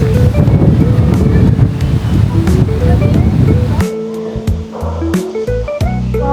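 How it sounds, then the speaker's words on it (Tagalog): Strong wind at a picnic grove campsite buffets loudly against the microphone in gusts, with a roaring, rumbling texture and no voices. "Sobrang lakas ng hangin dito ngayon sa picnic grove."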